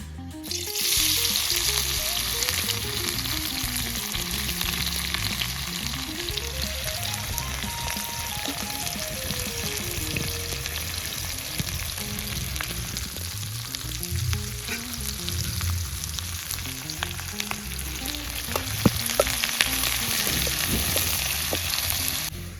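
Chopped onion sizzles steadily in hot oil in a pan, a loud, continuous close-up frying hiss with occasional stirring clicks and no one talking.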